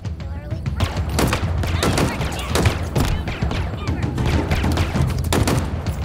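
Loud, sustained gunfire in Halo Infinite, rapid bursts and repeated sharp shots coming thick and fast from several directions, with thumps of heavier impacts layered through the battle din.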